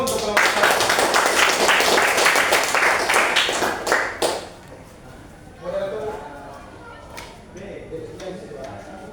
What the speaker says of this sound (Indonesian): silakan tepuk tangan dulu untuk kelompok 1